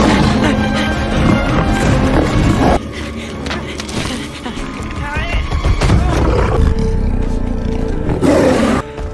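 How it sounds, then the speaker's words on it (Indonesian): A saber-tooth tiger in a film lets out loud, repeated roars and growls amid a busy action soundtrack, with abrupt cuts and bursts of movement noise. "muncul saber-tooth tiger atau harimau bergigi pedang"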